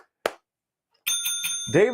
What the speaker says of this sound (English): gets the bell for Snowlubrious